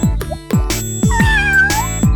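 Kitten meowing in a Tamil children's cartoon story, several loud, close, high cartoon meows in quick succession, standing alone with no talk over them.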